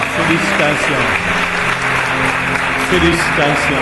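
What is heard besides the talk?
congregation applauding in church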